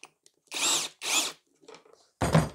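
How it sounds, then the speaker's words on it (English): Power drill spinning a bolt into a homemade radiator cleaning tool for an overheating tractor, two short whirring bursts followed by faint rubbing and a louder final burst, close and loud with no talk. "get a couple of turns in with the drill"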